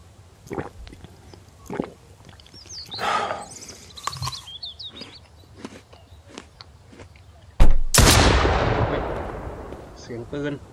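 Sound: gunshots in the video game Mist Survival

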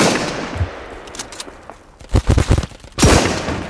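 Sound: rifle gunfire in a video game

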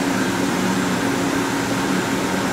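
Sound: LK Machinery TC-1200 vertical CNC drill-tap center moving all three axes

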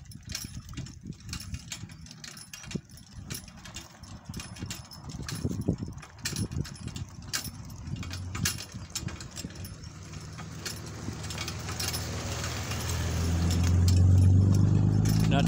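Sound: Dodge dually pickup truck passing

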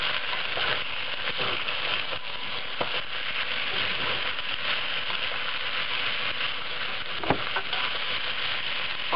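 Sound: stirring onions frying in a pan

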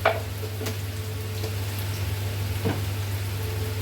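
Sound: sautéing onion and tomato

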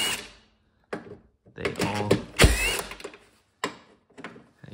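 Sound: unbolting car bolts with a 10 mm socket and extension

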